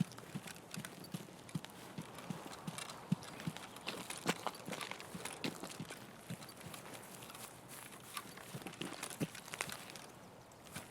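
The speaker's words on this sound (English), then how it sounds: "Rain." Rain in Escape from Tarkov patters steadily on hard surfaces, a constant spread of soft, irregular ticks and taps at moderate loudness with no voices over it.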